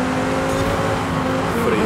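An Audi R8 racing in Forza Horizon 5 on Xbox Series X, its engine holding a steady loud drone throughout with a faint tire noise, close and continuous.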